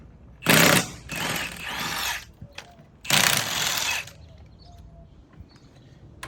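Six-spline wheel lug nuts being spun off with an impact tool, two loud buzzing bursts of rattling machine noise separated by a short pause, then quieter clicks and handling sounds close by.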